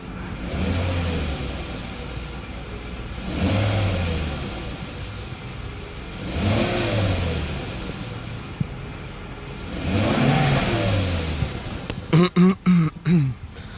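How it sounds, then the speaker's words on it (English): Mercedes S 500 engine revved during an e-gas throttle module test, rising and falling four times in smooth, evenly spaced bursts, followed by a short run of sharp clicks at the end. "So it does accelerate, it keeps the idle steady."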